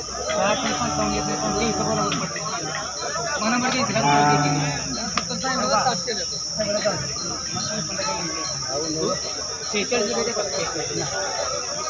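A cow moos a few times, deep and drawn out, amid people talking at a cattle market in Sangola, with a steady high insect-like buzz in the background.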